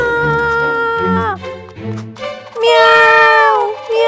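A cartoon cat lets out loud, drawn-out meows several times, likely a voice actor imitating the cat, with short high cries between them and loud, close, clean studio sound.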